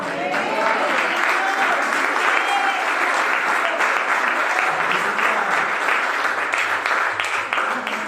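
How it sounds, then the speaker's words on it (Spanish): A church congregation breaks into loud, sustained applause for the Lord during a Sunday service, a dense continuous roar of clapping that stays strong throughout with some murmuring voices mixed in. "Yo, siendo usted, le doy un aplauso al Señor."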